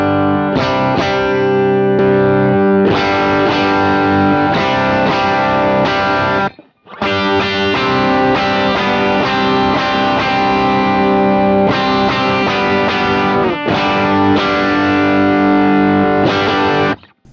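Single-coil electric guitar played through heavy-gain overdrive pedals with some bass trimmed, loud and distorted, sustained chords and riffs that keep going apart from two short breaks.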